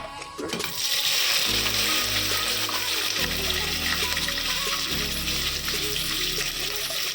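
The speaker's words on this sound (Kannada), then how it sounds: "ಎಣ್ಣೆ ಕಾದಿದ್ರೆ ಇವಾಗ ಇದೆಲ್ಲ ಪದಾರ್ಥಗಳನ್ನು ಹಾಕೋಣ" A sudden burst of loud sizzling as spices such as cinnamon, cloves and cardamom hit hot oil for vegetable pulao, then a steady crackling fry with a low hum underneath, no one talking.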